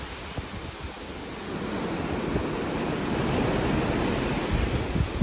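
Ocean waves washing steadily past a cruise ship sailing near Cuba, a broad continuous roar of surf with wind noise on the microphone, no voices.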